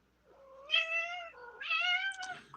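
A cat meows twice in a row, close and clear, with long drawn-out wavering cries separated by a brief dip, in an otherwise quiet room.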